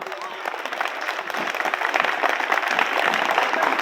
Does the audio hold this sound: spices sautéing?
no